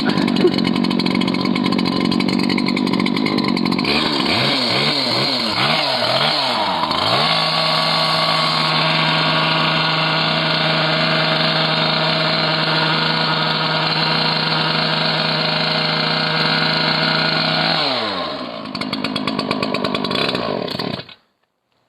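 A GeoRipper 6 Series trencher engine runs cold, not yet warmed up, during a live demo: a loud, steady mechanical drone that wavers and shifts pitch early on, then holds evenly before cutting out abruptly near the end.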